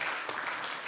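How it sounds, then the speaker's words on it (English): At a malaria eradication conference, an audience gives a short burst of clapping, a dense, fairly faint patter of many hands lasting under a second. "Ladies and gentlemen, just give one clap for Bryna."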